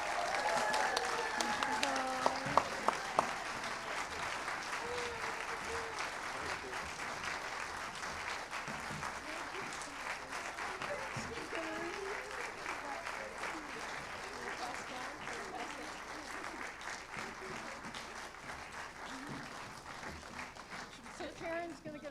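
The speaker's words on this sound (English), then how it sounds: "round of applause" An audience applauds a band and storytellers at an anniversary celebration, steady sustained clapping throughout with talk audible underneath.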